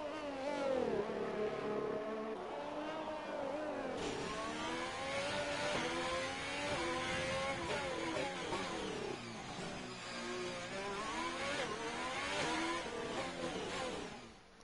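Race car engines scream in a racing video game on the Monaco Grand Prix circuit, a continuous high revving drone with rising and falling pitch sweeps as cars accelerate and shift, steady and loud throughout.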